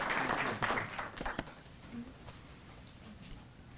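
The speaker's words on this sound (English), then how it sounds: "Give him a round of applause for his election and his support for the Southfield Police Department." A crowd at a Southfield police promotion and swearing-in ceremony applauds the mayor, with loud clapping for about a second and a half before it thins and fades into room noise.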